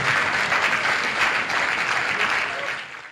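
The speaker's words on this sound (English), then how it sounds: "Let's clap for Jesus." A church congregation applauding, dense continuous clapping at moderate level that carries on evenly and eases slightly at the end.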